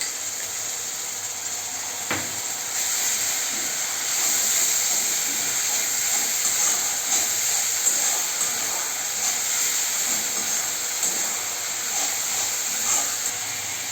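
Ginger-garlic paste and spices frying in hot oil for a Bengali rupchanda pomfret fish kalia, giving a soft, steady sizzling hiss close up with faint clinks and no voices.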